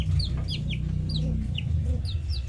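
Serama chickens, the world's smallest breed, cluck and chirp in a backyard pen: quick high peeps over low, soft clucking, repeated close by.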